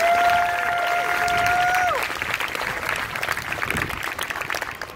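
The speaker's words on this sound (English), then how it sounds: "I want you all to give him an extra round of applause." Town hall audience breaking into a round of applause for a speaker called up to the stage; dense, sustained clapping that follows a voice and tonal whine fading out after two seconds.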